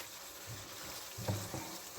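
Bitter gourd (karela) frying slowly in masala in a covered pot, a soft low sizzle with a few faint stirring scrapes, quiet and steady.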